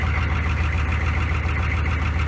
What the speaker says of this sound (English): There you go, there's a pretty cold start.